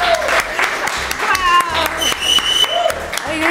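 Live applause from an audience welcoming a streamer onstage, a dense clapping wash running throughout with background music tones and some talk over it.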